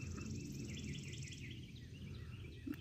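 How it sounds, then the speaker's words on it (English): Birds chirp and twitter in trees beside fish ponds, a faint, steady stream of small calls heard at a distance over quiet outdoor background. "I hear birds and everybody chirping over here in the trees."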